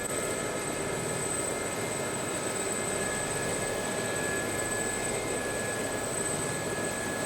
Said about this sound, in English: No, the blades are slowing down, but the engine's sound is...